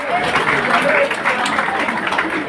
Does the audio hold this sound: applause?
yes